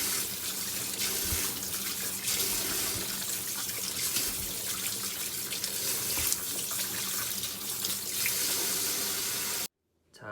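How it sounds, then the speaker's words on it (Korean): Tangerines rinsed under a running kitchen tap, with a steady, close, continuous stream of water splashing into the sink for about ten seconds before it cuts off abruptly near the end. "그래서 깨끗이 이렇게 씻어 보겠습니다. 자, 흐르는 물에 한 번 더"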